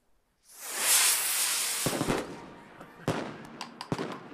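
A handmade firework from Tultepec, Mexico, ignites with a loud rushing hiss that swells and fades, followed by several sharp crackling pops spread over the next seconds.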